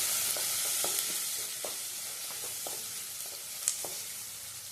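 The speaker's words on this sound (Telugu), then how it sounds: "కళాయిలోనైతే ఆయిల్ పోసుకున్నానండి, హీట్ ఎక్కుతుంది. ఆనియన్స్ వేసుకోవాలి, పచ్చిమిర్చి వేసుకోవాలి," Onions and green chillies sizzle steadily in hot oil in a kadai while a spoon stirs, making scattered scraping knocks against the pan over a constant frying hiss.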